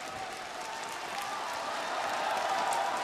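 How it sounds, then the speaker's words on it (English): A crowd applauds a match victory by the world number one, a steady, broad wash of clapping that swells slightly louder toward the end, with no talking over it. "the crowd showing their appreciation of the world number one"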